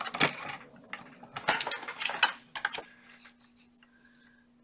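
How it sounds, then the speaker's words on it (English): Paper or card being cut down to size for a folio craft project, a few short crisp slicing and rustling strokes up close, with light clatter between them and no talking. "So I'm just going to cut it down to 6 1/4."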